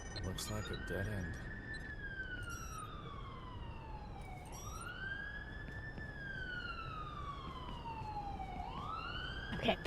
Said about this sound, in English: that police car is getting in my ears